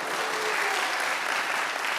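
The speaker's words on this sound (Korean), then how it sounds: "와우, 박수 한번 주시죠" A church congregation at a Friday evening worship service in Korea claps together in a steady, full wash of applause, close and continuous, with no voices on top.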